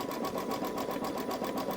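A Babylock Solaris embroidery machine stitches an in-the-hoop Easter bunny basket, giving a steady fast mechanical whirring and pulsing with an even rhythm, close and moderately loud, with no voices.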